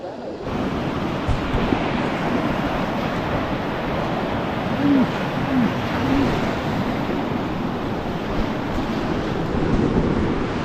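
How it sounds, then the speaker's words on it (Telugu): Fast-flowing water rushes near Pushpa dam on a hill-station ride around Gudisa. It makes a continuous, loud roar mixed with wind buffeting the microphone. "బాగానే స్పీడ్గా పోతున్నాయి వెళ్ళే వాటర్"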